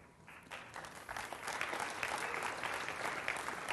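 Conference attendees at a 2009 programming session on Blocks and Grand Central Dispatch applaud. The clapping starts sparse and fairly distant, then swells into a steady wave of applause.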